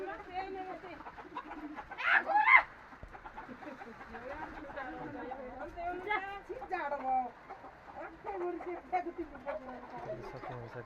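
Chickens cluck in bursts nearby while people talk over them, outdoors in cold, windy rain.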